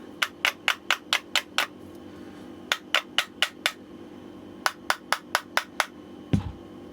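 Light hammer taps on the edge of a Suntour HESC CAN e-bike motor casing during a teardown, struck in three quick bursts of about six even, sharp knocks each, close up, ending with a duller thud.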